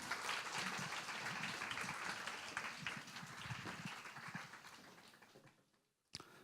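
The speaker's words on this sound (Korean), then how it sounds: "감사의 마음을 담아서 박수하도록 하겠습니다" A church congregation claps steadily for several seconds, the applause thinning and fading out near the end before a single sharp knock.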